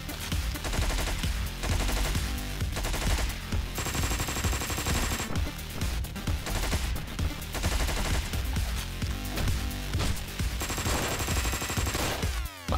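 Rapid gunfire from the top-down action game Hotline Miami 2, bursts of shots layered over a loud, driving soundtrack that fills the whole clip with no pauses.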